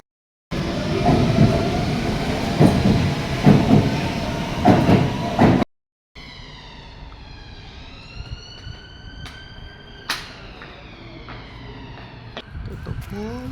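A London train rumbles loudly along the tracks for several seconds, then a quieter stretch follows with rising and falling whines and occasional clanks.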